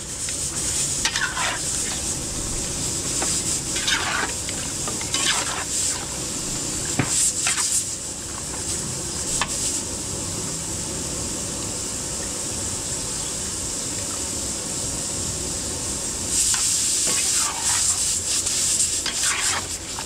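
Brown sugar mixture stirred in a cooking pan for a fiesta catering job in Mexico, Pampanga: repeated scraping strokes come in bursts over a steady soft sizzle, close and moderately loud, with no talking.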